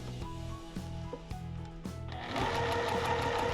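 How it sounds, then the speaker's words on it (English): Sewing machine stitching a table runner from a Sparklers Sew Ready kit, starting with a few short hesitant bursts of the needle and then running steadily, a close mechanical whir and rapid clatter with no talk. "before I start sewing"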